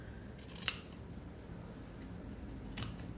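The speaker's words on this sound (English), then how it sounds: "I'm going to cut my backing fabric down to the hoop." Scissors cutting backing fabric down to an embroidery hoop, two or three quiet, close snips spaced apart against a soft background, with no talking.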